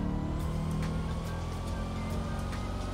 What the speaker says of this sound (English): You guys hear the gears though? So these are straight cut gears